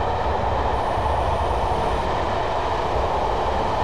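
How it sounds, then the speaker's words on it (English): A steady, continuous rolling rumble of a Class 111 diesel multiple unit coasting along the rails in a train simulator game, with a low drone and faint high whine, no talking. "I am now idling the power and allowing the train to coast."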